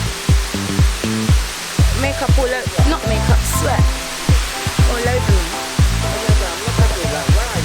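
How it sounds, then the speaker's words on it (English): Chenku Waterfalls heard on a hike as a constant broadband rush of falling water, steady and moderately near, underneath someone speaking breathlessly and heavy footsteps. "This is the waterfall."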